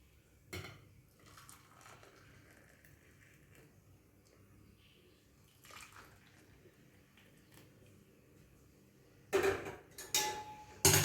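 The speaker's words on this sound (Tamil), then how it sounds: "இப்போ எனக்கும் என் பேத்திக்கும் காப்பி கலக்க போகிறேன்" Steel vessels clink and tap while South Indian filter coffee is mixed in a home kitchen, with scattered quiet knocks and a louder clatter of pouring and stirring near the end.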